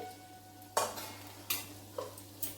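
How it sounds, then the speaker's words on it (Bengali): A spatula stirs chopped water lily stems in a pan over a raised flame, four or five distinct scraping strokes over a soft sizzle and low hum, close and with no talk. "গ্যাসের আঁচটাকে বাড়িয়ে ভালো করে নাড়াচাড়া করব"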